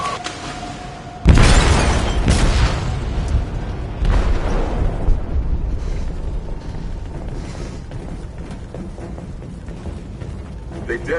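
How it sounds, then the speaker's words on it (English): An explosive goes off in a ship's hold with a sudden loud blast, followed by heavy rumbling and scattered crashing debris, then a second surge of rumble that slowly fades into ongoing mechanical noise. "They detonated an explosive in the hold."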